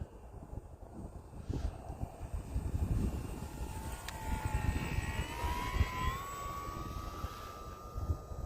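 An E-flite T-28 RC model airplane flies in cold, snowy weather, its electric motor giving a faint, distant whine that slowly rises and falls in pitch. It sounds under a steady rumble of wind buffeting the microphone.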